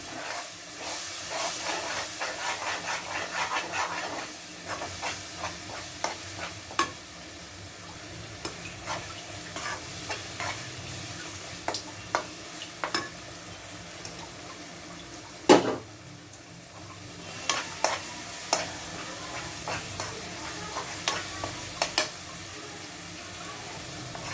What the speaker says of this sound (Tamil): அப்படியே கொஞ்சம் எண்ணெயிலே மசாலா வதங்கி வரட்டும்